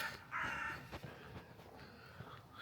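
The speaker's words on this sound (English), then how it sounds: "It's amazing how loud a crow can be." A crow caws loudly outdoors, a harsh burst followed by fainter scattered calls and light background noise.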